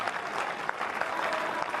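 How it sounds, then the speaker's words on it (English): Crowd applause around Court 3 at Wimbledon during a tennis match, continuous clapping from spectators with brighter individual claps standing out, moderately distant and steady throughout. "Alfie Hewitt thoroughly enjoying the applause and the support he's receiving around this court 3."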